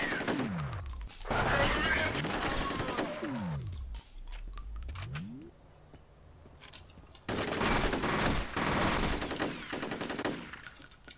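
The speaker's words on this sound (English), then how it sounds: "So it's very much more the old school style shooting here" Assault rifle shootout in the video game F.E.A.R., loud sustained bursts of automatic fire with a brief lull before another long volley of rapid shots.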